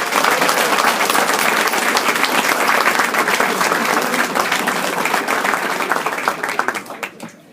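An audience at a college football senior banquet gives the senior class loud, sustained applause, clapping steady throughout and tapering off at the end, with no talk.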